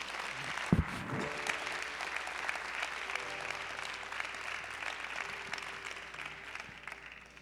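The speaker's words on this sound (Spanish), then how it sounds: "Denle un aplauso a Jesús." Congregation applauding in a church, steady mid-level clapping from many people with a low organ-like hum underneath and a brief louder thump early on.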